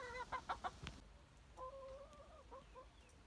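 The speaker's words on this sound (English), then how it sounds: "Got a hen here, Hazel, who absolutely loves blackberries" A hen named Hazel clucking nearby, a quick run of short clucks followed by a longer drawn-out call and a few softer clucks.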